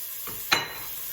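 Minced beef drops into a hot pan with caramelized onions and garlic, setting off a short, sharp sizzle that swells then settles into a steady frying hiss, close by.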